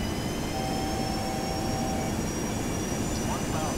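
Jet engines of a Boeing T-43A spool up on final approach in X-Plane 11, a steady broadband roar with faint whining tones held throughout, loud and close.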